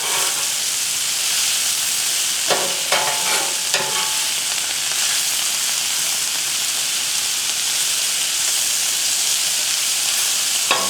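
Ingredients sautéing in a pan with salt, a continuous bright sizzle and hiss throughout, with a few scraping stirs near the start standing out briefly over the steady frying.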